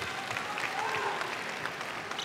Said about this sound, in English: The oohs, the ahs of the M&S Bank crowd